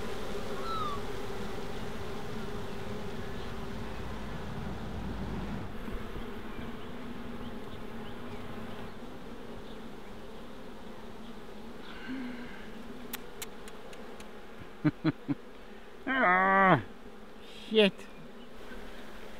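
Honey bees buzzing steadily around a hive while queen cells are moved from splits, a dense continuous drone close by, broken near the end by brief movement noises and a short swear.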